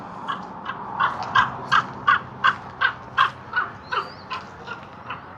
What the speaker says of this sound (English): There's a raven going overhead